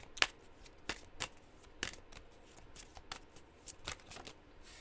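Cards for spirit messages are shuffled by hand in quiet, close riffles: a string of sharp, brief card snaps at uneven intervals with soft rustling between them.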